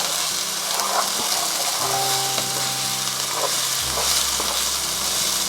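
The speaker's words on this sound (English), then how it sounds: "We'll wait at least 5 minutes for these onions and the garlic to turn into light brown" Onions and garlic frying in a pan for prawn biryani, a steady broadband sizzle that holds from start to finish at an even, fairly loud level with a low hum underneath.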